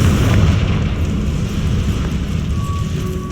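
Bombarda and Confringo spell explosions in Hogwarts Legacy: loud, continuous roaring blasts and rumbling debris, dense and heavy from start to finish, with no voice.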